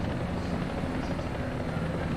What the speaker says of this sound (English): So let's just see if that's our helicopter.